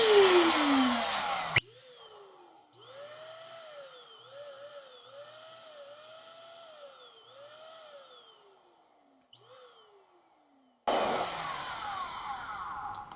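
Electric balloon inflator motor whining steadily with a rising and falling pitch as a double-layered 5-inch latex balloon fills, starting and stopping in short bursts, with louder handling noise at the start and end.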